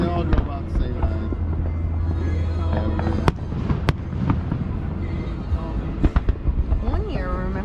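Fireworks burst over a lake in repeated booms and sharp cracks, some distant and some louder, while people nearby keep talking throughout.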